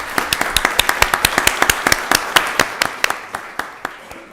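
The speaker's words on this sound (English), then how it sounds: "Let's give them all another round of applause." Quick, steady clapping from a small group in a Rockdale County board of commissioners meeting room, a regular run of sharp claps lasting several seconds and tapering slightly toward the end.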